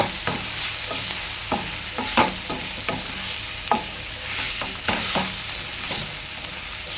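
A vegetable fry sizzles steadily in a pan while a utensil stirs it. Irregular scraping clatters repeat over the continuous close hiss, with no talking.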